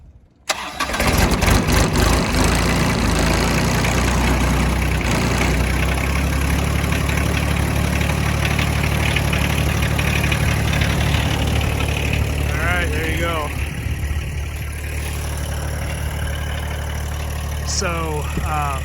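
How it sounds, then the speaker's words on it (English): A John Deere 2025r compact tractor engine cold-starts with a loud crank and catch, then settles into a steady, throbbing idle that runs close by for the rest of the stretch. "I'm gonna do a cold start on the tractor"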